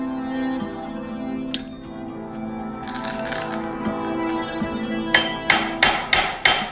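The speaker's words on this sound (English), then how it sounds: "So I've flattened the overlapping ends of the ring and I've pierced a hole through it." A hammer strikes chain mail ring ends to flatten them, sharp metallic blows that start sparse then fall in a quick, close, ringing series over a steady background hum.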